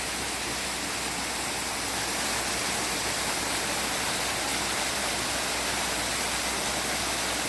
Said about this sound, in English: You want to stop and enjoy the roses, but stop and enjoy the waterfalls.